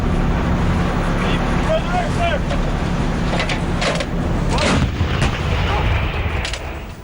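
A howitzer fires in a few loud, sharp artillery blasts over steady rumbling noise, with a voice talking throughout.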